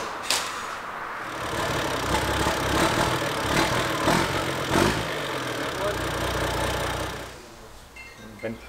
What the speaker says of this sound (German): Kleiner Zwischenstand, Motor läuft, habt ihr ja gesehen.